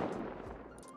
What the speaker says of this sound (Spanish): Vale, estoy disparándole.